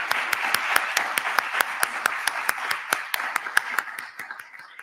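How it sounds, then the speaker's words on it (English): An audience applauds at the Penny Games 2025 ceremony, with steady, sharp claps forming a dense, rhythmic round over a murmuring crowd that thins slightly toward the end. "let's give them a round of applause"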